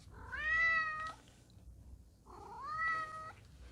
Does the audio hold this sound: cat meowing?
yes